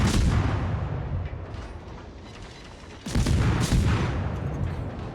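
Naval gunfire in World of Warships, a destroyer battle involving the USS Benson, with heavy booming salvos at the start and again about three seconds in, each decaying into a rumbling tail with no talk over it.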